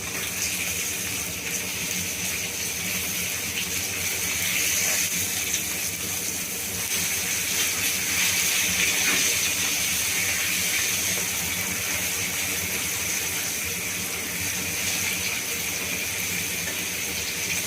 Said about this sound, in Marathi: मच्छी आता एका बाजूने फ्राय झाले